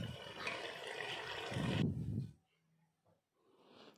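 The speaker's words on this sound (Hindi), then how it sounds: "थोड़ा सा पानी डाला है ताकि शलजम गल जाए अच्छे से।" Water is poured into a pot of turnip curry on a village kitchen stove, a steady close splashing rush lasting about two seconds before stopping, followed by faint quiet kitchen sounds.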